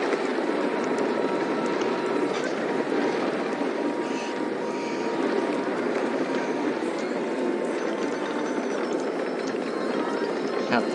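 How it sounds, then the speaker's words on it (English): Roller coaster train rolling into the station in RollerCoaster Tycoon 2, a steady rumbling clatter of cars on track with a dense mechanical wash filling the whole stretch at even loudness. "Now that the first train has arrived at the station, we can get a rating"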